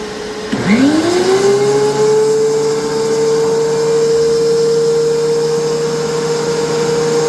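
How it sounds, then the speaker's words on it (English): A shop vacuum starts with a rising whine and settles into a loud, constant drone that runs without pause. "I'm going to turn my vacuum on."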